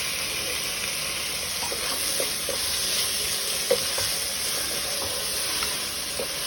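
Coriander and mint leaves sauté in a pan for an egg biryani, giving a steady close sizzle with occasional light stirring scrapes throughout, no voices.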